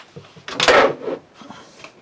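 A drawer in a Coachman Pastiche caravan slides with a short scraping rumble and a soft bump, followed by quieter rattling as it moves again.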